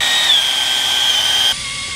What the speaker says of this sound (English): He's just kind of eyeing it up and then drilling holes.